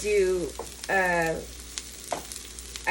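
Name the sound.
onions frying in butter in a pan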